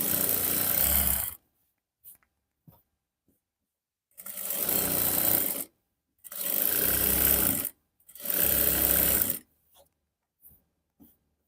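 Sewing machine running in four separate bursts while topstitching the side seam of pen-style pajamas, each run a steady loud whirring hum lasting one to two seconds with quiet pauses between.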